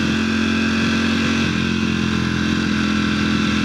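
Ducati motorcycle engine running at about 5,000 RPM while riding at roughly 30 mph, a loud, steady, throbbing drone held without pause, close to the listener.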